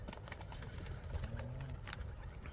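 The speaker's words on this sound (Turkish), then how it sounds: "Binlerce kuş var böyle." Low cooing of pigeons or doves over a steady murmur of thousands of birds in a forest, several calls overlapping at a moderate distance.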